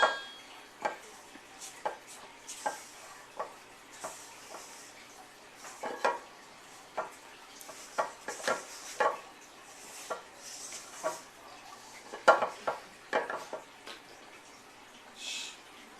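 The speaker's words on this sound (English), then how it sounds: "And we're going to mix that in together. I'm just using a spoon." A spoon mixing homemade pretzel dough ingredients with oil in a bowl, producing irregular scraping knocks and clinks against the bowl, quiet and close, with pauses between strokes.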